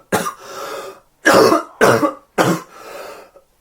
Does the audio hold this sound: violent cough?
yes